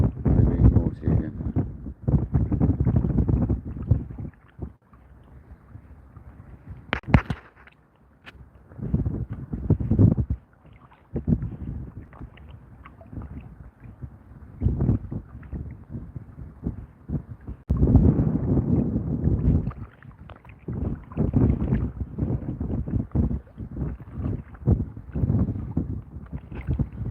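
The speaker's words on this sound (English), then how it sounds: "That wind, man, that's crazy." Gusty wind buffets the microphone during a kayak bass fishing outing, roaring in loud, uneven bursts with calmer gaps between them.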